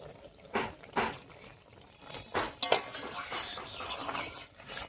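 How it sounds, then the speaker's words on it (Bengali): A pot lid is lifted off and a pan of ridge gourd and potato curry is taken off the stove, giving several short clinks and scrapes of metal cookware, close and fairly soft, with no talking. "এবারে ঢাকা খুলে নামিয়ে নিচ্ছি।"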